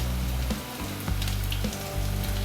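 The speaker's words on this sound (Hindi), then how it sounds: "सभी चीज़ें अच्छे से फ्राई हो चुकी हैं।" Spices fry in a pan for a sprouted moong curry, filling the moment with a continuous close crackling sizzle broken by a few brief stirring scrapes, and no voice.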